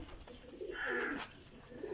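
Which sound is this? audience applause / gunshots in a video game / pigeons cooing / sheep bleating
pigeons cooing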